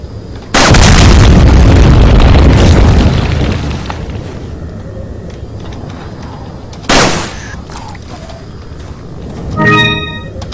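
Gunfire in the Resident Evil 4 video game, swamp level: a loud, sustained burst of blasts opens the clip and fades over several seconds, a second sharp shot follows later, and a brief ringing tone closes it.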